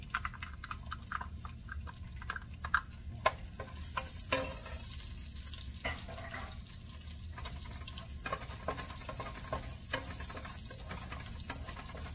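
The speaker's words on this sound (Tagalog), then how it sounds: "meron akong kawaling mainit na ang mantika. Ilagay natin yung ating bawang" Garlic dropped into hot oil in a wok crackles and sizzles, with scattered sharp pops and spatula scrapes over a soft frying hiss.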